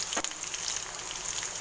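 Garlic sizzling in hot oil in a pan while tempering for onion pepper dal, a steady dense frying hiss with a brief crackle near the start, close and alone.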